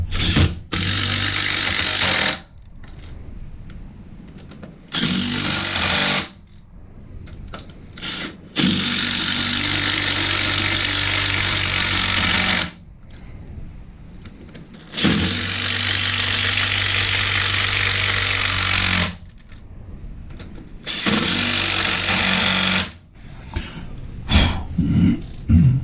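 Power drill driving screws into a replacement toilet flange, several loud whirring bursts of a few seconds each separated by short pauses, close and dominant.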